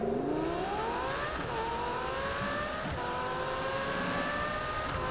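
A Lamborghini Huracan engine pulls hard while driving, revving up through the gears in rising sweeps with short dips at each shift, close and loud with no talking.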